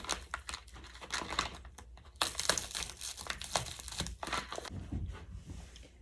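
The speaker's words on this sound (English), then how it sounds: "Begin by carefully removing the shrink wrap from the outside of your packaging." Shrink wrap is peeled and torn off product packaging close up, a busy run of crinkling and crackling plastic with short tearing bursts and irregular rustles, quiet and alone with no talk.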